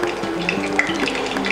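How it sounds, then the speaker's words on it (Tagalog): Embutido sizzles and crackles steadily in hot oil in a pan, a close, continuous frying hiss with no talking. "Nagpapainit na ako ng oil dito sa ating pan. Oh, ipiprito natin to hanggang maging golden brown."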